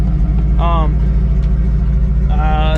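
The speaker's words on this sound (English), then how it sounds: "This car is just too damn loud." A loud car engine idles with a steady low rumble throughout, and a voice briefly speaks over it twice.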